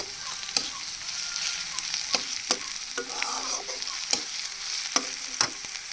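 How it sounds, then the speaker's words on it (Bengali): Onions frying in a little oil are stirred with a spoon, sharp scraping clicks at irregular intervals over a soft, steady sizzle, close and alone. "পেঁয়াজটা আমি এভাবে নেড়ে মতো একটু লাল লাল হওয়া পর্যন্ত"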